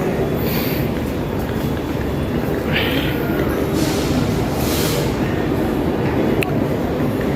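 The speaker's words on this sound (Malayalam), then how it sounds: "വെസ്റ്റ് കോസ്റ്റ് സൂപ്പർ ഫാസ്റ്റ് അങ്ങനെ പ്ലാറ്റ്ഫോം നമ്പർ 1ഉം 1A വന്നുകൊണ്ടിരിക്കുകയാണ്." The West Coast Superfast Express pulls into platform 1 at Coimbatore Junction with a loud, continuous rumble of wheels on rails and rolling coaches, plus occasional higher hisses and screeches, heard nearby.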